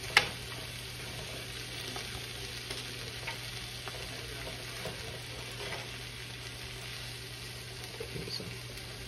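Food sizzles steadily in a hot pan on the stove with a constant soft crackle, after a sharp clink at the start and faint stirring noises, no voices.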